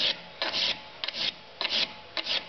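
Rounded nut shoulders being resized with a file in light rubs: four short, rhythmic rasping strokes separated by brief pauses, close and fairly quiet, with no talking.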